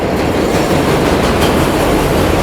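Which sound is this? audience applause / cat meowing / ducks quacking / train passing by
train passing by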